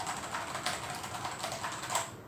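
Typing on a computer keyboard, heard as a steady run of quiet, closely spaced keystroke clicks with brief louder taps scattered through, close by and without speech.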